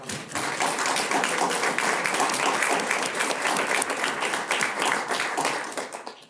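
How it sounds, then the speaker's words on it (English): Audience applause at a talk, a full, dense patter of many hands clapping at a steady level for several seconds before tapering off at the end. "Let's give them a round of applause for coming."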